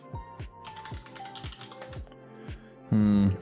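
Close computer-keyboard typing with rapid, irregular key clicks over several seconds, ending in a louder burst of clatter.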